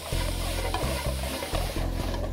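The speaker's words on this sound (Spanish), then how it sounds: "Los voy a poner acá y los voy a saltear." Cleaned blue crabs being sautéed and seared in a hot pan make a continuous close sizzle, broken by a few stirring bumps and scrapes.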